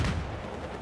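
Dense gunfire from a 2v2 video game shootout, with steady heavy booms and rattling shots filling a brief moment.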